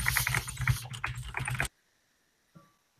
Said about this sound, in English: This is my 1980s keyboard.